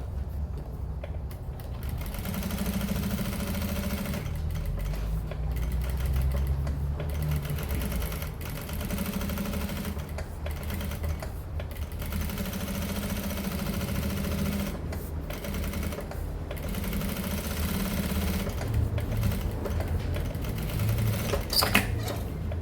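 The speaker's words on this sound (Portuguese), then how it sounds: "vou passar uma costura toda a volta prendendo esses dois" A sewing machine runs a long seam around a necessaire, stitching the lining and outer fabric together wrong side to wrong side, a steady close mechanical whir broken by several short pauses.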